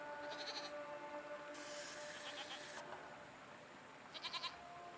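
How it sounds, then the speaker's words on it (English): Goats bleat in a few short, wavering bursts at moderate distance, with a quiet gap between calls and a final cluster of rapid bleats near the end. "I think they might be goats. Hey, they are goats."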